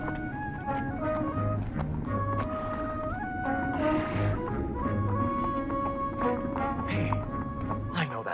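A horse's clopping hooves and a whinny ring out over a busy, continuous music-like background, with voices present throughout.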